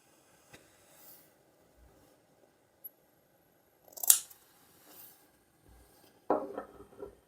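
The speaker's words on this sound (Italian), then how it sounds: "con le forbici qui sui bordi vado a fare dei taglietti" Scissors make a few small, crisp snips along the edges of felt panels laid on a work surface for a crocheted pouch, with quiet gaps between the brief cuts.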